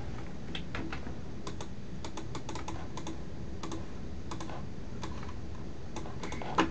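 Typing on a computer keyboard while formatting a document, irregular clusters of light clicking keystrokes, close and clear, with no talk over them.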